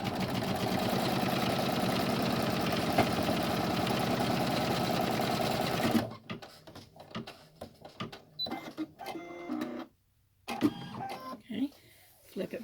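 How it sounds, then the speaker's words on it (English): A sewing machine runs a tack stitch on fabric for a double-zip splash bag, a dense, steady rapid whir for about six seconds, then stops, followed by quieter handling noises and a person talking. "And then run this stitch, and it's going to tack it down."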